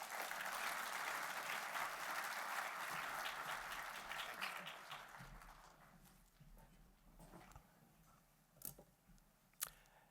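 Audience applause at a formal induction ceremony welcoming a speaker to the stage, steady clapping from a crowd that is heard at a moderate distance and fades out, leaving a few scattered claps and small noises.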